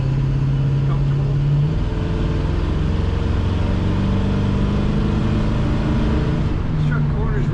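A 1972 Chevrolet pickup truck drives along, its engine a steady loud low drone with shifting tones from inside the cab, with someone talking over it.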